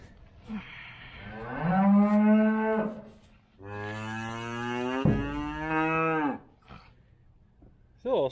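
A newborn heifer calf moos in two long, loud, close calls, each drawn out over a second or more, with brief quieter sounds between them.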